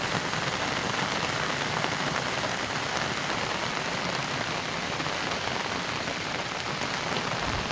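Heavy rain pours down in a dense, unbroken roar of drops hitting surfaces, steady and loud for the whole stretch with no voices.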